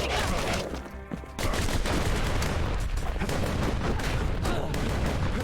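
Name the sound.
enemies firing shots in video game Bastion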